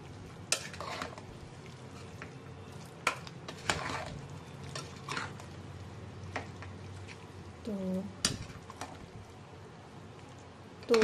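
Fresh coriander being stirred into bottle gourd curry in a pan, with scattered spoon clicks and scrapes against the pan over a faint background, and a brief voice in the middle.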